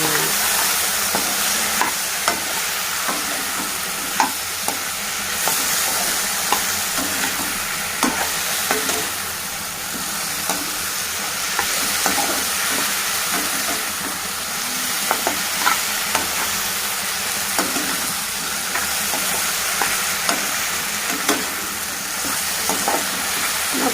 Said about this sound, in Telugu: ఇప్పుడు మనం బెండకాయలు పసుపు వేసాము కలుపుకోవాలి కలుపుకోవాలి